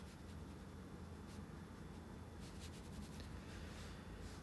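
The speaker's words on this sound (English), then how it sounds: "I'm going to start to erase things." Erasing on a board, with steady faint scrubbing strokes and light rubbing that run on without pause, quiet and alone.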